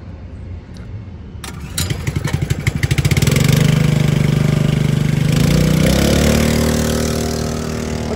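A pressure washing machine's engine is pulled into life with a quick series of chugging pops, then settles into a loud, steady running hum close by that shifts slightly in pitch.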